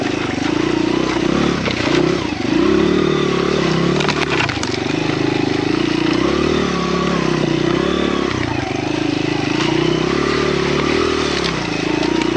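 Honda XR100R dirt bike climbing a snowy ditch, a loud close engine drone with revs rising and falling, scraping clatter mixed in, and a voice briefly audible.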